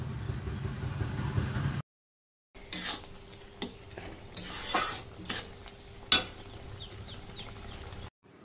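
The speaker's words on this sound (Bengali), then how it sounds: "বেশ ভালো করে একটু মিশিয়ে নেব" Apple chutney with raisins and cashews being stirred in a pan, a spoon scraping and clinking against the metal in irregular strokes over a low sizzle, with a brief silent gap near the start.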